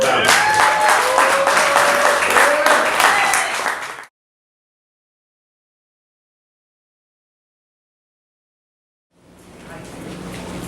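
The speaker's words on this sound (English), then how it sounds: "Clap it up, clap it one more time for both battles" Crowd applause and cheering at an OpenFace rap battle, a loud, dense wash of clapping with voices calling out over it for about four seconds, then a sudden dropout to silence before the crowd noise returns.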